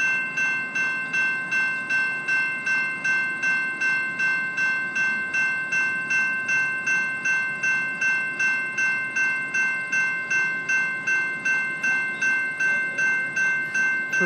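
A westbound GO Transit commuter train passes on Kerr Street, led by cab car 363 with MP54AC 667 and MP40PH-3C 606 locomotives. It gives a close, steady, rhythmic pulsing clatter with ringing tones at an even level and no voices.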